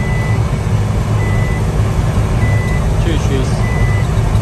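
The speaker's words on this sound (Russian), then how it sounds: "До 91 года, по-моему, вот этот сигнал ставили спид-аларм." Intermittent high electronic chime from the speed alarm of a 1989 Suzuki Carry 4x4 supercharged mini truck, repeating steadily under loud engine and road rumble, with a brief spoken phrase.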